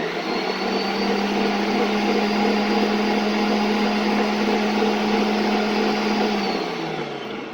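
An electric mixer whirs steadily and loudly while flour is worked into a yeast slurry for stollen dough, a continuous motor drone that holds level and eases off near the end.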